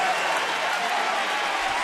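Baseball stadium crowd on their feet cheering and applauding after a hit, a broad, steady roar of clapping and cheers filling the space while a broadcaster talks over it.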